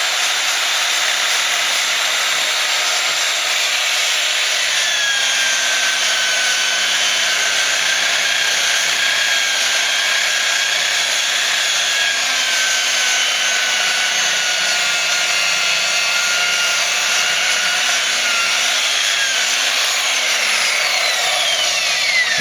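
Abrasive compound rubbed steadily over a lacquer finish with a power polisher, making a loud, continuous close-up whirring hiss that barely changes throughout, with no talking.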